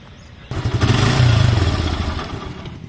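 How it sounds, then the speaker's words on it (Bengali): A Suzuki Gixxer motorcycle engine starts up abruptly and runs at a steady, loud idle with a rough, throbbing rumble. "বাইকের ইঞ্জিন সাউন্ড কোয়ালিটি যদি শোনানোর একটু চেষ্টা করি"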